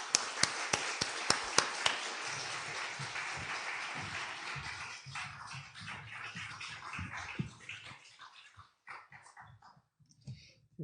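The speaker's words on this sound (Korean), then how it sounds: "우리 정말로 뜨거운 박수로 우리 맞이하도록 하겠습니다" Church congregation welcomes a visiting pastor with applause, a burst of loud claps at the start that thins into scattered patter and fades out, with low murmurs underneath.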